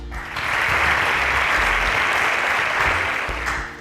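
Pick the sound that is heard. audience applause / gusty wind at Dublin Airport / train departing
audience applause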